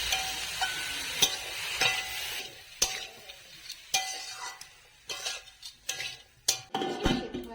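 Malabar spinach greens being stirred with spices in a frying pan, with a soft sizzle beneath repeated scraping and clinking strokes of a utensil against the pan, close and fairly loud, no voices.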